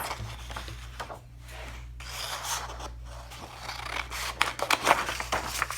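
Scissors snipping through paper for a first-grade woven collage project, a few soft, close cuts and rustling in a quiet room with no talking.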